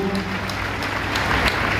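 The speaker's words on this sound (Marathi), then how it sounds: "त्या सर्वांच्यासाठी पण आपण टाळ्या वाजून त्याचे अभिनंदन करूया" An audience at a student honouring event applauds the volunteers who staged the programme, with steady, moderately loud clapping and a low hum underneath.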